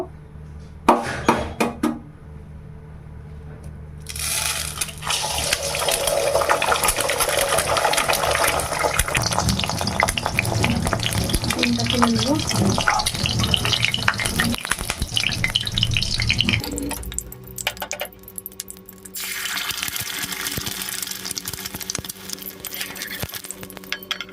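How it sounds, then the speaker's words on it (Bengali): Eggs drop into hot mustard oil in a wok and burst into a loud, bubbling sizzle that holds for several seconds, then eases to a quieter fry, with a few short clatters at the start. "ডিমগুলোকে প্রথমে পোচ করে তুলে নেব"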